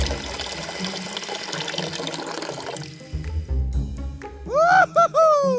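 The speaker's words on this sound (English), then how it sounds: "Swimming pool is full of water." Water from a small pump pours steadily into a Lego swimming pool, a constant splashing stream that shifts in tone partway through and ends with a loud voice.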